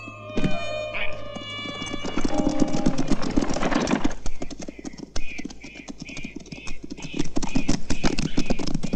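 Horses galloping across dusty western frontier ground, a dense rapid clatter of hooves close by, with a whinny near the start and shouted voices mixed in.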